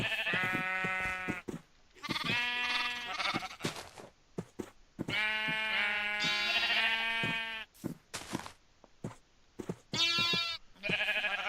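Sheep in a Minecraft game farm bleat repeatedly in loud, close, wavering calls, several overlapping bursts separated by short pauses, with no talking.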